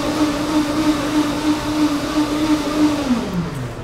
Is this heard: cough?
no